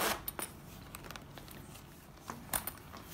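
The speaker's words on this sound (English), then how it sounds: "So this zipper will be nice and secure" Quiet rustles and a few light metallic clicks and tugs as a zipper is worked on a Chic Sparrow Lewis & Clark travel bag, close up.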